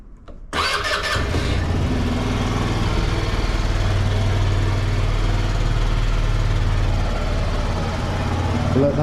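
A Sym Jet Evo 14 scooter engine starts and settles into a steady, close idle, a continuous low throbbing drone that runs unbroken throughout.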